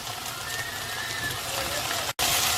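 Green pepper frying in coconut oil in a pan, a soft continuous sizzle with light crackles, close by, cut by a short silent gap, with a voice speaking over it.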